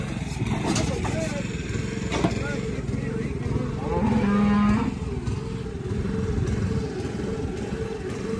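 A cow moos once, nearby on a cattle farm during working of the herd, a low sustained call under steady outdoor engine-like noise and people talking.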